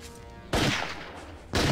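Two loud gunshot blasts from a sniper rifle in the video game Helldorado, one at about half a second and another a second later, each a sharp broadband crack with a short ringing tail.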